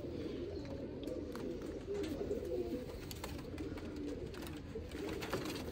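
Female pigeons of a purebred line, including a purple-necked hen, coo in soft low murmurs that run continuously at moderate level, layered with overlapping calls and faint background noise.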